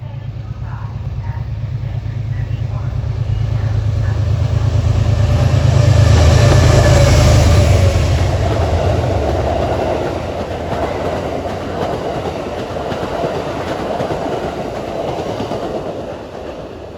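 Amtrak Lake Shore Limited train 48 from Chicago rolling past a station, a loud rumbling pass with rhythmic clickety-clack of wheels over rail joints, swelling to a peak then slowly easing off.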